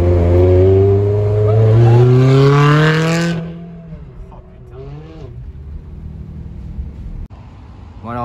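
A Ferrari Challenge Stradale sports car driving through Paris, its engine roaring loud and close at first and rising in pitch, then dropping away to a quieter rumble and passing street traffic.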